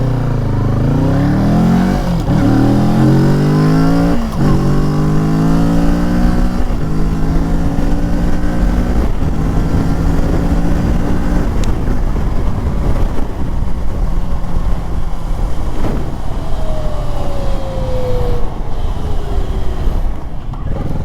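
A 2023 Kawasaki Z650 motorcycle accelerates hard through several gears, its engine note climbing and dropping in repeated shift steps, loud and close with steady wind rush throughout.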